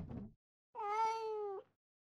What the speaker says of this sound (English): you come back into your apartment and you hear meowing